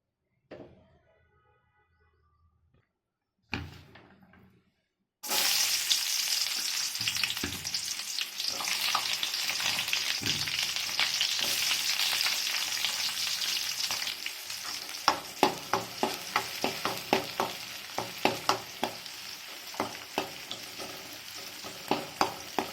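Oil frying in a kadai on a gas stove after half a cup of oil goes in, with steady close sizzling that starts abruptly after a few quiet seconds, plus a run of sharp spatters and stirring knocks toward the end.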